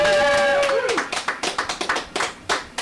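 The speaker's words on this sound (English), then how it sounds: "Yeah, clap it up, audience." A small audience claps during a music interview, a quick run of sharp, distinct hand claps after a brief tonal sound at the start, with some hands louder and nearer than others.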